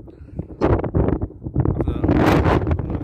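Gusty wind buffets the microphone outdoors during a metal detecting outing, a loud low rumble swelling and dropping in waves across the clip, with a voice speaking briefly.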